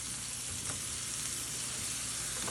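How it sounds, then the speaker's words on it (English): Slider buns sizzle in a hot pan as they fry until crisp, a steady, close, loud crackling sizzle that continues throughout with no voices. "Yes, fry them. They get crispy."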